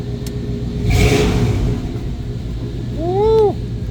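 A 1993 Chevy Blazer engine runs with a low steady rumble, rising briefly in a rev, plus a short chirping squeal near the end.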